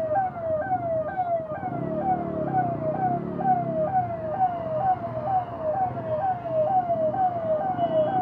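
A wailing siren repeats in a steady rising-falling cycle throughout, fairly close, over the rumble of traffic and engines.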